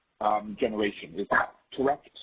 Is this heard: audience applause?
no